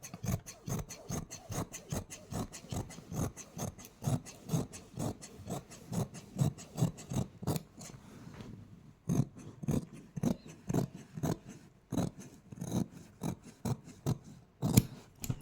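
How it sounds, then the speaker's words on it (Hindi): Scissors cut through suit lining fabric in a steady run of crisp, close snips, each blade closure sharp and rhythmic, with brief pauses between passes and no talking. "चलिए अब हम इसकी कटिंग करते हैं।"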